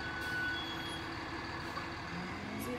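Recycling truck working a residential street while blue bags are collected, its engine rumbling steadily with a faint high reversing beep and a brief hiss of air.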